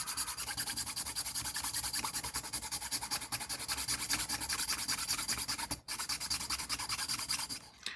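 A rounded file rasps steadily across a rifle stock for a Wolverine MTW-9 Magpul build, the strokes close, dense and continuous, with one brief pause near the end.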